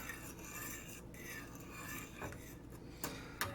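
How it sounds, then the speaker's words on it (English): Taiwanese stewed pork instant noodles stirred in a pot, faint scraping and clinking of a utensil against metal with a couple of sharper knocks toward the end, quiet and close. "Let me give this an extra stir."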